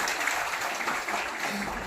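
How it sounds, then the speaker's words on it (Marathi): Dense audience applause for journalists at a Journalists' Day event, a continuous, even wash of many people clapping at once, steady and moderately loud for the whole short stretch. "आपण सर्वांनी टाळ्या वाजून ह्या पत्रकारांचं अभिनंदन केलं"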